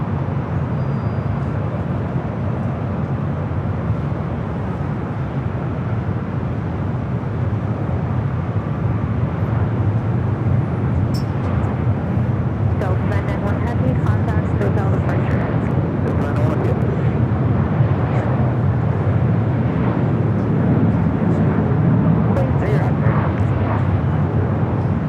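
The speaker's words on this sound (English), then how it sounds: "This is American Airlines 2608 taking off to Austin on the 737-800." An American Airlines Boeing 737-800 takes off from runway 25 right at Los Angeles LAX with a sustained, powerful low jet roar that swells gradually and stays loud throughout.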